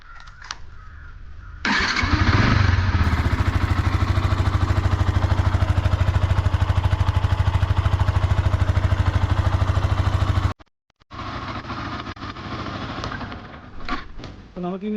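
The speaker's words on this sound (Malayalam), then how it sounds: "നമുക്ക് എക്സോസ്റ്റ് വയ്ക്കുന്നതിന് മുമ്പായിട്ട് ബൈക്കിൻ്റെ ഒറിജിനൽ, അതായത് സ്റ്റോക്കായിട്ട് വരുന്ന സൗണ്ട് ഒന്ന് കേട്ട് നോക്കാം." Stock exhaust of a Yamaha R15 motorcycle, with a faint idle that jumps into a loud, steady revving engine drone, cuts out abruptly, then settles back to a lower running idle.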